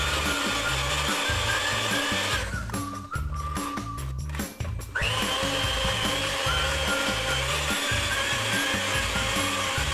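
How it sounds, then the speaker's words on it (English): A Black & Decker handheld mixer whirs steadily as it beats cake batter in a bowl. The loud motor drone shifts pitch briefly partway through, then settles back to its even hum. "this handheld mixer I have is pretty good"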